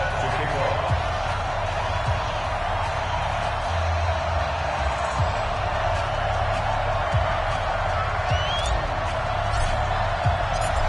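A stadium crowd in an EA Sports NFL game, Colts against Titans, makes a steady, dense roar that runs unbroken the whole time, with a commentator's voice over it.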